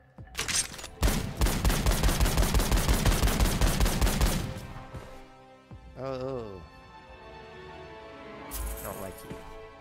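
Rapid automatic gunfire in the first-person shooter Gunfire Reborn, played on Nightmare difficulty, rattling loudly for about four seconds. A quieter warbling effect and a brief burst follow, with a voice speaking over parts of it.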